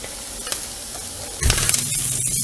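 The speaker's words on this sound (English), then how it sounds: "when I'm cooking the eggs, I just keep lifting it off of the burner to stir it a little bit more" Eggs cook in a pan on a stove burner, a soft background sizzle that swells into louder, close frying and stirring as the pan goes back onto the heat, with no voices.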